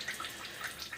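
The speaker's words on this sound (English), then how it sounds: "the water is still running in that humidifier" Water trickles and drips inside a home furnace humidifier, a close, steady, faint splashing hiss over a brief moment with no voices.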